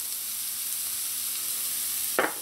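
Onion and garlic sizzle in a frying pan, a steady faint hiss throughout, with a brief louder crackle burst near the end, no voices.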